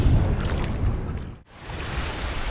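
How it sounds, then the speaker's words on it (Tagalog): Strong waves hit a Philippine shoreline with a loud, rushing broadband surge that briefly falls away mid-clip before building again. "sobrang lakas talaga ng alon"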